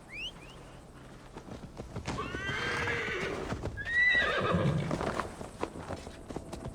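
Horse in Assassin's Creed Valhalla, ridden at a steady gait with rhythmic clip-clopping hooves close by, broken by two loud neighs and whinnies, with snorting and hoof clatter between them.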